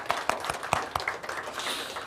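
A church congregation applauding during a Sunday service, a short run of sharp, fairly close claps with a few louder individual hits amid the patter.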